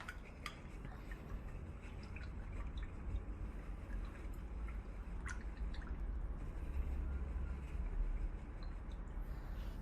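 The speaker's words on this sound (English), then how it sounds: "Wash your brush out." A paint brush is swished and rinsed in a cup of water during acrylic painting, giving soft, quiet drips and small splashes with a few faint taps against the container over low room noise.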